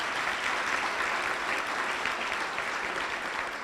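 Dense, even applause from a crowd at a breast cancer fundraiser kickoff event, a continuous wash of clapping at steady volume from start to end.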